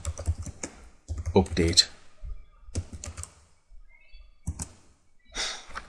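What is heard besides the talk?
typing a terminal command on a computer keyboard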